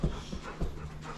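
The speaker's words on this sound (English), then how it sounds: "This is what it looks like when you're a good dog." A dog pants in quick, short breaths close by, a few rhythmic huffs over a quiet background.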